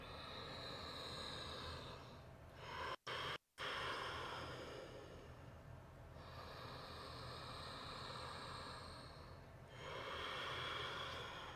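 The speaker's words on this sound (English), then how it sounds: "3 more deep breaths here." Slow, deep breaths during a gentle hamstring yoga stretch, long airy inhales and exhales drawn close to the microphone, repeating in a calm rhythm at low volume with brief silent gaps.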